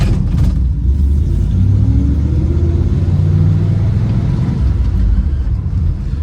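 A 1951 Ford Victoria with a Flathead V8 and three-speed manual transmission drives along a road, heard from inside as a continuous low engine rumble with road noise and a gentle rise in revs, steady and loud with no talking.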